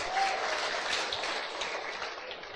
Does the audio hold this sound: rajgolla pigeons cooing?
no